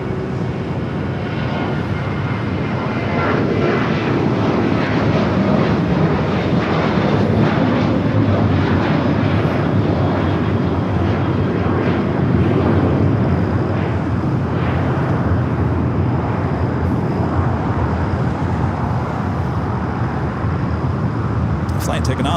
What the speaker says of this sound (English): Taking off, United Airlines heading to Fresno, California, flight 2064 in the 737-800.